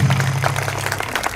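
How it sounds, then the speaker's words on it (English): Audience applause in a hall, steady dense clapping for a brief moment with a low voice-like hum underneath. "let's give a big round of applause to Mr."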